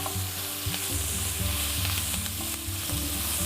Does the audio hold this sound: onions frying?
yes